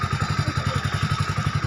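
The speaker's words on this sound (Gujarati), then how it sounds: "બાઇક ચાલુ કરું" A motorcycle engine runs close by after starting, putting along in a fast, even rhythm of low thumps, with no voices.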